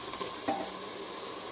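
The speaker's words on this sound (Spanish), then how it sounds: "Lo movemos un poquito." A spoon stirs tomato into a pot of potatoes cooking in a pressure cooker, giving a brief scrape and clink over a soft, steady sizzle.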